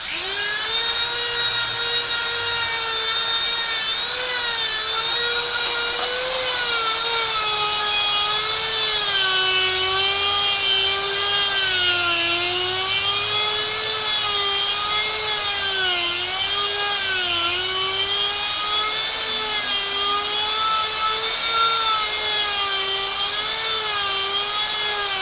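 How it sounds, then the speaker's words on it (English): Metal emitter parts for a Kylo Ren lightsaber being ground down to fit, a loud continuous high whine from a rotary grinding tool with a wavering pitch, running steadily and alone throughout. "So you keep grinding"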